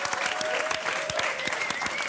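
Audience applause at a live French game show, a brief burst of dense clapping with distinct individual hand claps, steady and fairly close.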